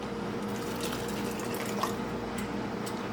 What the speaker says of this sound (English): And then I just fill the rest up with the broth.